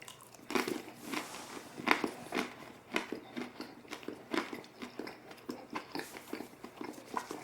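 Brie-style cheese on a cracker is chewed close to the mic, with crisp crunches early that soften into rhythmic, moist chewing, quiet and without talk.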